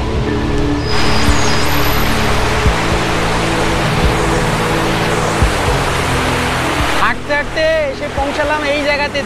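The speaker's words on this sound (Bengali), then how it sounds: "ওপার থেকে একটা ছোট্ট ঝর্ণা পড়ছে, নদীর স্রোত দেখুন কি জোরে" A fast river current rushes with a small waterfall pouring in from the far bank at Santook, Kalimpong, a loud, dense, continuous roar, with a voice speaking over it near the end.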